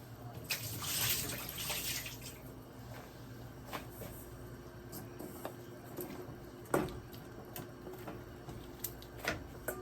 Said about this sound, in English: I'll rinse my turkey neck and I'll add that to my pot.